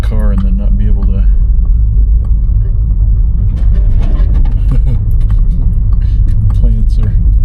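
A small car driving slowly over rough ground, with plants scraping against its underside, gives a loud steady low rumble and scattered scraping and rattling noises while people talk over it throughout.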